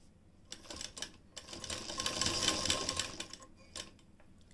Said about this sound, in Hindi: यहाँ पर अब सीधी सिलाई लगाएंगे